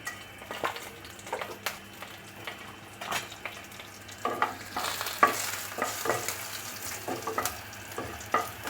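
Fenugreek seeds fry in hot oil with a dried whole chilli, a soft crackling sizzle under repeated sharp scrapes and taps of a spatula stirring the pan, close and irregular, with no talk.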